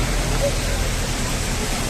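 Floodwater gushes up onto the NH 66 highway in a steady, dense roar that stays loud and unbroken throughout.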